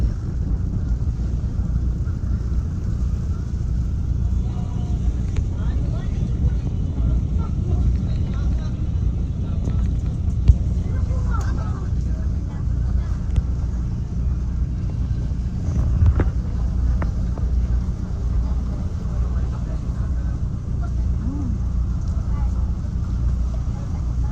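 A boat engine drones steadily throughout a sea crossing to Alabat, Quezon, accompanied by constant wind and rough-water noise. The sound is a low, continuous rumble with occasional faint knocks.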